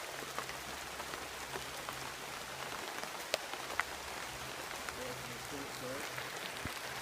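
Rain patters steadily on a dense tree canopy in Florida, a soft even wash with occasional louder drips, faint and close.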